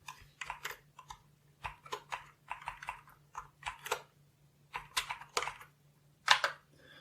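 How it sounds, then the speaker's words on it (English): Keys clatter on a Sinclair QL computer keyboard as a short program is typed in irregular bursts of close, crisp clicks, with a faint steady hum underneath and no talking. "So if I type in a program 10 print hello world"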